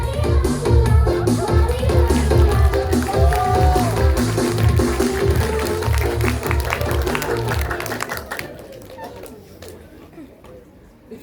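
Audience applause at a World Theatre Day reflection event, a thick burst of clapping with chatter and a few voices over it, gradually thinning out and fading toward the end.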